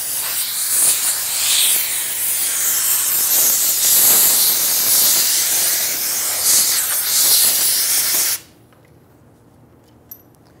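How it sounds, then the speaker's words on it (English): Compressed air blows dirt and debris off the top of a 1994-2004 Ford Mustang fuel tank, a loud continuous close hiss lasting about eight seconds before cutting off abruptly into near silence. "use some compressed air and clean up the debris around here, the dirt"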